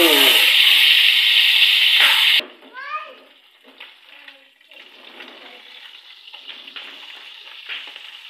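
Food frying loudly in cooking oil at a riverside outing, a dense steady hiss that cuts off abruptly after about two seconds, followed by quieter outdoor sounds and a voice.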